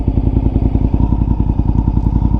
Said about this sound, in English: This motorcycle has an aftermarket exhaust, and the sound from this motorcycle is just intoxicating.